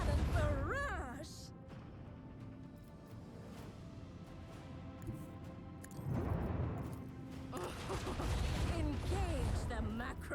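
A macro cannon barrage fires from a starship in the Rogue Trader video game, heavy booming blasts and crashes rolling through the scene, mixed under game music and a voice speaking.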